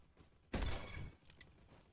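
A single sharp gunshot crack in the Bad Business shooter game, a Deagle or Magnum pistol, faint and brief with a short ringing tail.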